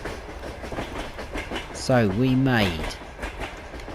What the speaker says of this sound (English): The noisy train.